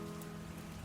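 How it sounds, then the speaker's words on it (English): Steady rain pours down on a surface, filling the short moment with a dense, even hiss that stays loud throughout, with no voices. "raining harder."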